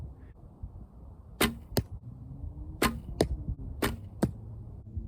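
During archery practice, arrows strike a target in a series of sharp, close thuds, about six impacts arriving in uneven pairs over a quiet background.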